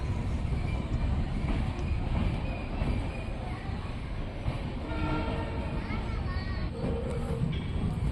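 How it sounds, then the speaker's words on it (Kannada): A passenger train running from Hosapete toward Bengaluru approaches with a continuous rumble and rolling rattle. Brief horn-like tones sound over it, and a voice talks throughout. "ಆ ಕಡೆಯಿಂದ ಹೊಸಪೇಟೆಯಿಂದ ಬೆಂಗಳೂರಿಗೆ ಹೋಗೋ ಪ್ಯಾಸೆಂಜರ್ ಟ್ರೈನು ಬರ್ತಿದೆ."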